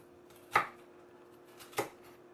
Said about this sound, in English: now it's time to cut up your peppers